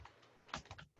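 A few quick, quiet keystrokes tapped on a computer keyboard, a short irregular burst of light clicks.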